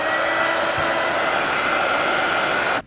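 A heat gun blows a steady, loud broadband roar while warming the barrel of a 1936 Waterman's 92V fountain pen, holding constant for nearly three seconds before cutting off abruptly at the end.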